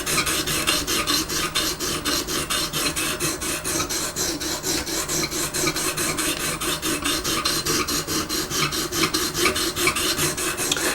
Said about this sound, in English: Let's give it some more welly with the sharpener